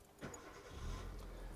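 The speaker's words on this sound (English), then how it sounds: "Turn the engine on now" A car engine turns over and fires up, a low rumble swelling after a short crank and settling into a steady idle, fairly quiet and close with no talking.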